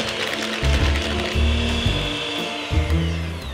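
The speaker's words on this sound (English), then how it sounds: "We want to cream this with our sugar." Butter and sugar with lemon zest are creamed for a cake. A motor whirs in surges, starting, straining and easing off several times, loud and close with no talk.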